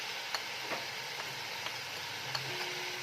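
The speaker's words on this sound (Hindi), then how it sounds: "तो इसको अच्छे से हिलाएंगे।" Spices for chicken korma frying and being stirred in a pan, a steady soft sizzle with faint periodic ticks of the spoon against the pan, close and continuous with no talking.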